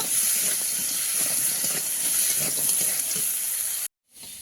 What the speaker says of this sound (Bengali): কাঁকড়াটা বা তেলে দিয়ে দেবো কাঁকড়াটা লাল লাল করে ভেজে নেব